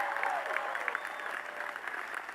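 Audience applause fills a graduation commencement ceremony, a steady wash of clapping from a large crowd that holds at an even level throughout with no talking over it.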